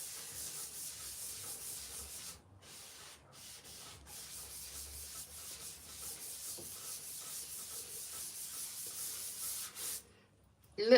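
Furniture wax is worked in by hand with a sponge, giving a quiet, continuous soft rubbing and scrubbing in close strokes, with brief pauses between passes.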